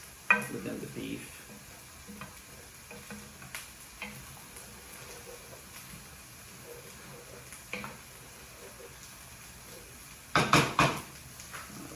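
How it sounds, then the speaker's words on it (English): Ground beef frying with onions in a pan is stirred, with quiet sizzling under scattered scrapes and clinks of a utensil against the pan, and a louder burst of stirring near the end. "So I'm gonna mix the onions within the beef."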